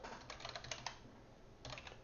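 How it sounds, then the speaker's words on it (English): Computer keyboard typing while coding in the Flutter framework: quick clusters of soft plastic key clicks, close and fairly quiet, with a short pause before another burst. "I'm just kind of typing"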